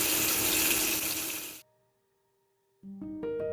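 Boiled water lilies (shapla) are drained of their cooking water, which pours loudly and steadily into a sink for about a second and a half, then stops; after a quiet pause, clinking kitchen sounds and tones follow.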